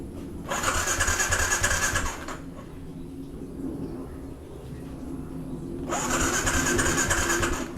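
A motorcycle engine that will not fire cranks over in two separate bursts of whirring starter noise, each about a second and a half long, with a low idle-like hum between them and no catch.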